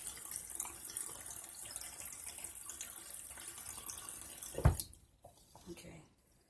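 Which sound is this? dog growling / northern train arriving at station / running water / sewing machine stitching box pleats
running water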